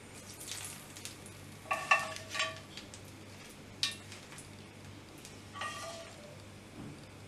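Brief bursts of sizzling hot oil tempering poured into curd rice, a few short crackling splashes separated by quiet pauses, close by.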